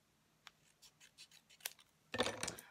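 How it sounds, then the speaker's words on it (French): Scissors cut a paper strip for shabby chic crafts, with a few soft, close snips and rustles followed by a louder, longer cutting and crinkling burst near the end. "Donc là, je vais le découper."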